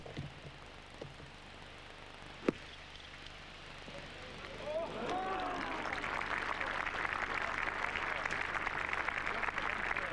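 Golf gallery applause rising after a putt at the 1996 Trophée Lancôme final round, a broad sustained clapping swell building midway and holding loud to the end, with a brief sharp knock before it.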